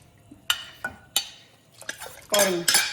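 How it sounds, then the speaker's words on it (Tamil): A metal spoon knocks and scrapes against a pot while toor dal is stirred into tomato rasam, with several sharp separate clinks followed by a busier, louder burst of stirring and clatter near the end. "ஆட் பண்ணிவிட்டு நல்லா மிக்ஸ் பண்ணிவிடுங்க."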